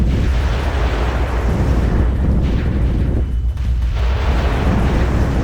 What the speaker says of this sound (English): Now that's an explosion.